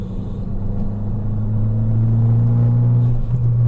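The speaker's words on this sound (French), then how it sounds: "Là, on va se taper une petite accélération." A Fiat 500 Abarth's engine rumbles loudly and steadily, its low tone climbing as it accelerates close by.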